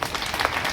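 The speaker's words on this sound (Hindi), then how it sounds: "इसलिए बच्चों के लिए ताली बजाओ आप सब।" A short burst of steady, dense applause from an audience clapping for children at a residential youth camp, heard close and fairly loud throughout.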